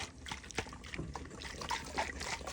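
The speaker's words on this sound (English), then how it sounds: "Now I'm going to add in where I added water to the jar." Water from a jar pours and trickles into a cooking mix, a soft, uneven splashing stream with small gurgles and drips, quiet and close.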